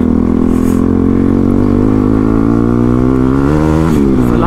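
A motorcycle engine that struggles to run in cold weather roars loudly and close by, its pitch climbing steadily as it revs, with a brief dip near the end.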